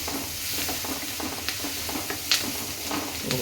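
Egg fried rice with carrot fries and is stirred in a pan, giving a steady close sizzle with scraping stir strokes and a few sharper clinks, and no talk.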